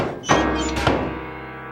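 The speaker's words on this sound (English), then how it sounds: "banging his head against a mailbox" A head bangs against a mailbox in an animated story, two hollow metallic thunks about half a second apart with a ringing decay after each.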